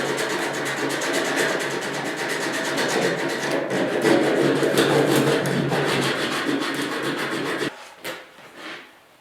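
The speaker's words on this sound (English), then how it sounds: "So I'm just going to rough it out with some 40 grit." Coarse 40-grit sandpaper scrubs body filler on the driver's door of a 1972 Ford 4x4 truck with a fast, continuous rasping rhythm, close and fairly loud, ending in a few scattered scrapes.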